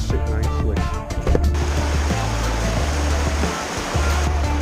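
Steady rushing water from a waterfall and a stream on a walk toward Haweswater, a dense broadband roar that holds constant throughout with a low rumbling undertone, near and loud with no voices.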